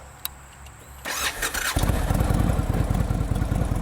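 An Indian Chief motorcycle fires up with a keyless push button: a faint click, a short starter whir, then the V-twin catches and settles into a loud, steady, throbbing idle.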